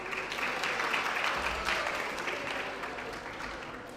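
At an English language festival contest, the audience applauds a contestant, with soft, fairly distant continuous clapping that slowly fades toward the end.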